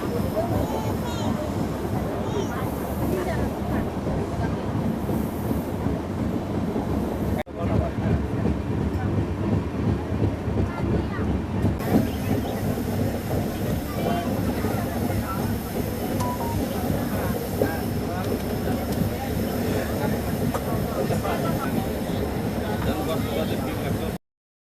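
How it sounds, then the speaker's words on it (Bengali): The Kanchankanya Express runs at about 40 km/h through Chapramari forest in the monsoon Dooars. A continuous loud rumble and rattle from onboard carries on with wind noise throughout, and a voice seems to talk over it. "আমাদের ট্রেন এখন ক্রস করছে চাপড়ামারি ফরেস্ট।"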